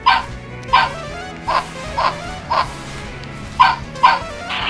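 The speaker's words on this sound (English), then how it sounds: "There's like a dog weapon, I don't know if you saw, that barks when you attack, and a dog shield that barks." Video game dog weapon and dog shield barking on attack: a run of short, sharp yapping barks in uneven bursts, about eight in under five seconds, loud and close over a faint background hum.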